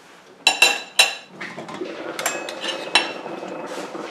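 A lid set back onto a cooking pot while making Thai yellow curry gives a few sharp metallic clinks close by, followed by softer clatter and rattles of cookware, with no voices.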